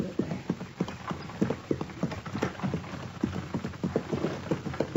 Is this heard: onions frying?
no